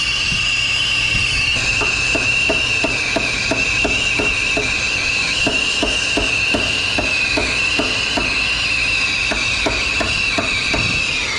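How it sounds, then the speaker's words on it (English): An oxy-fuel torch welds a refrigerant line on an AC compressor during a condensing unit replacement, giving a steady, loud roaring hiss with a high whine, broken by irregular metallic clicks and taps throughout. "This line we're gonna bend it a little bit, and we're ready to weld"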